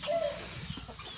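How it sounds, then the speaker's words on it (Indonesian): Soft, low bird calls from a Burmese chicken, a short clucking murmur against a steady outdoor background hum. "itu ayam Burma di sana"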